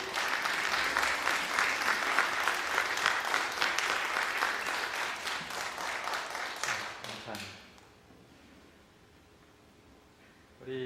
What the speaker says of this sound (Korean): 우리 어머니들 위해서 우리 이거 수고하셨다고 우리 한번 박수 보내드리면 좋겠습니다